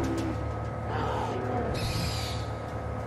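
An owl hoots within the prehistoric world of the video game Far Cry Primal, set against a steady bed of game ambience and music, with a brief breathy gasp-like sound near the start.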